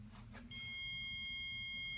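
A steady, shrill electronic beep from a bug-detector alarm in a hotel room in Grodno starts partway in and holds continuously, loud and close, over a low hum.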